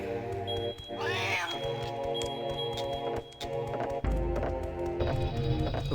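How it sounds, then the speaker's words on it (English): A house cat meows clearly and close by over the music and effects of a Banjo-Tooie game playing in the background, with a rising, drawn-out cry near the start and further short calls. "Always fun when your cat comes in with a rat while you're eating."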